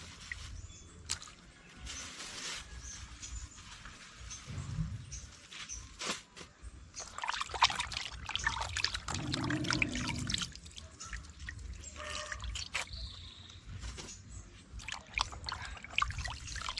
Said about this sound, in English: So I'm gonna wash them off into the vinegar water.